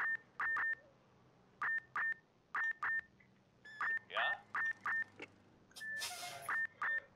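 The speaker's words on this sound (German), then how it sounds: "Da schreit schon mein Timer." A timer in the firefighting and rescue game Emergency 4 beeps repeatedly in short, sharp pairs and triplets, clear and evenly spaced, over a faint background.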